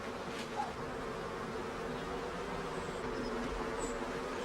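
Honeybees buzz steadily around wooden hives kept by a beekeeper in County Cavan, a dense, even drone of many insects close by, with a few individual bees passing nearer the microphone.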